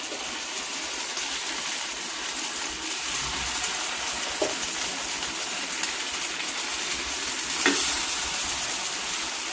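Batter for fasting aape, a puffed Marathi snack, sizzles and fries steadily in an aape pan, a dense continuous hiss close by with a faint clink or two partway through.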